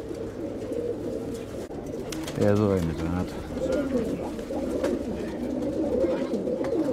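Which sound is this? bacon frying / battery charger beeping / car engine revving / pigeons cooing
pigeons cooing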